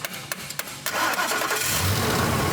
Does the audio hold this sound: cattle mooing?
no